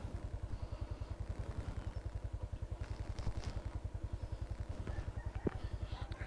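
A dirt bike engine putters steadily at low revs throughout with an even rapid thumping rhythm, fairly distant and moderate, with faint clatter on top.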